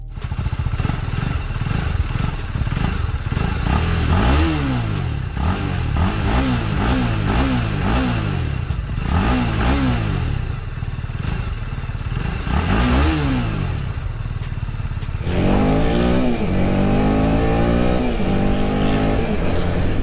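A TVS Apache 310RR motorcycle rides through city traffic, its engine droning steadily with repeated rising and falling revs as it accelerates and shifts, loud and close throughout with no talk.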